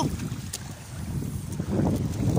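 Strong wind gusting over a fishing boat at sea, a loud continuous low roar with buffeting against the microphone that builds toward the end.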